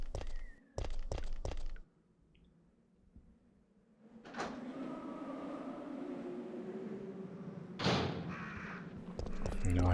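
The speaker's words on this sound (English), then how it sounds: "I hear crows." Crows caw in the Resident Evil 3 Nemesis PlayStation game: a quick cluster of harsh, loud caws at the start, then a quieter stretch followed by murky in-game ambience and a few sharp noises.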